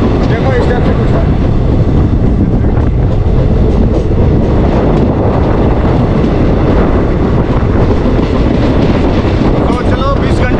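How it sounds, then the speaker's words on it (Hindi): A moving passenger train leaving Guwahati rumbles and rattles loudly and continuously, with wheel clatter and wind noise filling the whole stretch. "हमारी ट्रेन चल पड़ी है"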